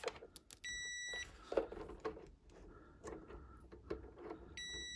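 A multimeter on continuity setting beeps while testing a fuse from an air fryer that won't heat: two short, high electronic tones, the second at the very end, amid quiet handling clicks and faint rustling.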